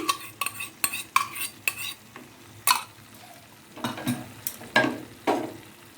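Spice masala sautéing in oil with sour yogurt stirred in for cream paneer, heard as a rhythmic series of scraping spoon strokes against the pan over a soft sizzle, with no talking.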